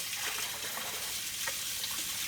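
A kitchen sink faucet running warm water, a steady close hiss of flowing water with faint splashing throughout.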